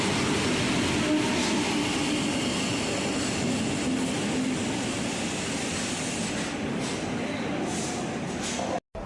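Inside a Mumbai-Howrah Duronto Express train in a third-class AC coach, a steady loud rumble of the moving carriage runs throughout, with faint rail clatter and a brief cut near the end.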